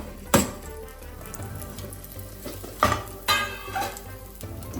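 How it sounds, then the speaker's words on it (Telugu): Garlic frying in a pan for a carrot curry, stirred with a ladle: a few sharp clangs of the metal ladle striking the pan over a low steady sizzle, close by. "కర్రీ ఫ్రై చేయడానికి గరిటె తీసుకో"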